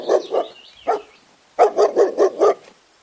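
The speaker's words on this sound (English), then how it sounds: "D for dog" A dog barks in two bursts: a few quick woofs, a pause, then a rapid run of five or so sharp, close barks.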